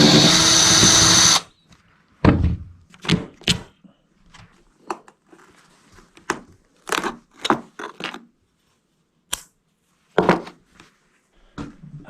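A power drill with a Torx T40 bit backs out floor bolts during an RV teardown: a long loud whir at the start, then silence followed by a string of short bursts, clicks and clatter.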